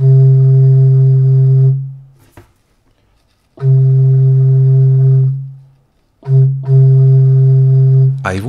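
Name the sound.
lieblich gedackt stopped organ pipe sounding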